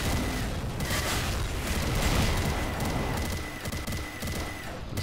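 Explosions in the video game S.T.A.L.K.E.R. Narodnaya Solyanka during a mutant wave, heavy booming blasts rumbling one into another with crackling debris, loud and continuous with no talk.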